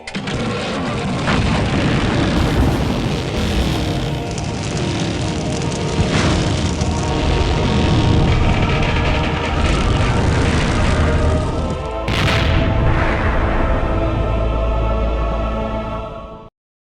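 Airplane engine roaring in Full Throttle Remastered, a loud continuous rumbling drone with bursts of noise, alone and without talk throughout.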